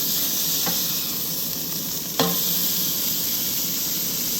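Half-pound onion smash burgers sizzling loudly and steadily on a Spider Grills Huntsman kettle kamado grill, with a couple of brief scrapes or taps over the continuous greasy hiss.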